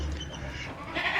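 Saanen goats bleat close by on Nacara Farm in Aceh, a steady dense bleating with a rising call at the end, over a low constant background rumble.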